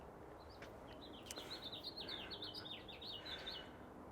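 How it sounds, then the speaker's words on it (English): Birds chirp and tweet outdoors in quick, high bursts, fairly faint and steady over a low background hiss, with no talking. "I'm glad the birds are happy, but shut up!"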